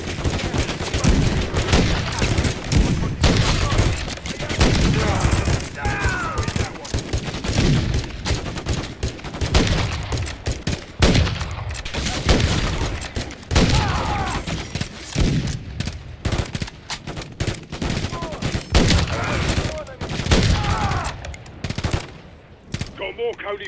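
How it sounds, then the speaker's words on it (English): Sustained machine-gun bursts and rifle fire in a Call of Duty: Modern Warfare III campaign battle against incoming vehicles, loud and continuous fusillades with booms, under intermittent radio voices. "Keep laying down fire."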